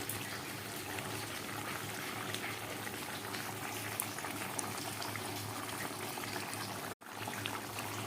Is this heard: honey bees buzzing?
no